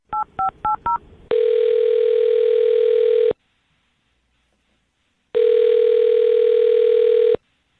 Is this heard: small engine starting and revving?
no